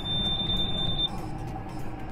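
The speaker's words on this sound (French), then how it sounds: "le bip, c'est quand c'est une petite graine qui tombe" A seed drill monitor's steady high electronic beep inside a tractor cab during spring sowing, about a second long over the low engine rumble.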